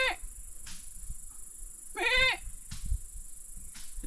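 Goats on a Philippine farm give short bleats, one clear, loud wavering bleat in the middle and fainter calls at the edges, over quiet outdoor background.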